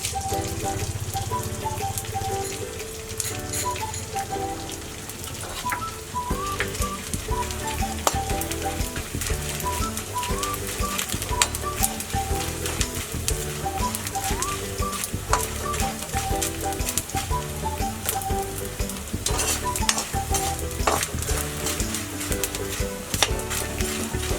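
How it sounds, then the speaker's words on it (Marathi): Edible gum (dink) frying in oil in a pan, a steady dense sizzle and crackle with rapid popping that continues evenly throughout, close and fairly loud with no talk. "सगळा डिंक असं तळून घेणार आहे"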